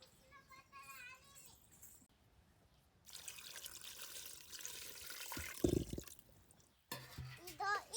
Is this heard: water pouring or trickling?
yes